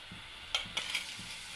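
Tomatoes go into a hot frying pan with chillies already cooking, giving a short burst of sizzle with a few stirring clinks of utensil against the pan, close and moderately loud.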